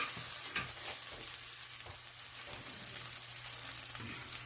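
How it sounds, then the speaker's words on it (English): Egg-dipped bread frying in a very hot pan, giving a steady crackling sizzle with small pops throughout, fairly close and alone with no talking. "So I have my bread dunked in the egg wash here. And I'm I'm just going to put it in this very hot pan."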